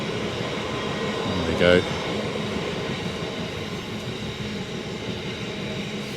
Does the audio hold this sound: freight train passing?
yes